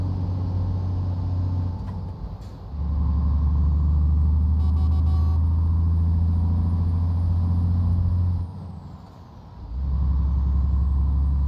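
A Scania 124G 360 truck engine in Euro Truck Simulator 2 drones and rumbles at a steady low pitch, dropping off briefly twice as if shifting gears, with a hiss of air brakes.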